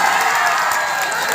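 Crowd applause and cheering at a Bihu celebration honoring a Guinness record, a dense continuous roar of clapping and voices sustained at steady loudness throughout.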